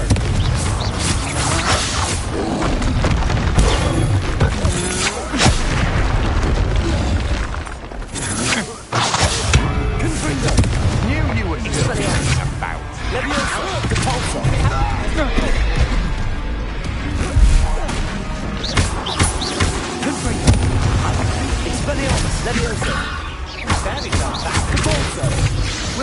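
Confringo blasting spells from Hogwarts Legacy go off again and again as loud booms, crashes and crunching impacts. Creaks and clanks fill a long, dense stretch of combat, and voices and grunts rise here and there.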